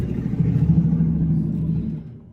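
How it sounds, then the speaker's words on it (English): A loud truck passes outside, a heavy engine rumble that swells and holds, then fades near the end, with no voices over it. "Sorry guys, loud truck."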